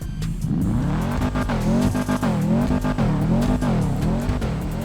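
A Nissan GTR R50 engine in a driving video game revs up and down in repeated rising and falling waves, loud and close, with a whining rasp and some tire squeal, and no one speaking.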